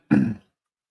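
A single short, rough cough or throat-clear, close and fairly loud, followed by silence.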